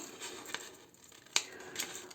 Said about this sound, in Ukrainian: Тепер ножицями я вирізаю